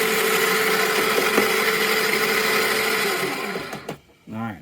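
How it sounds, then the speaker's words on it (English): Coffee beans being ground in an electric grinder, with a loud, steady motor whir held for about three and a half seconds before it cuts off, followed by a brief voice. "So I'm gonna go on ahead and grind these up."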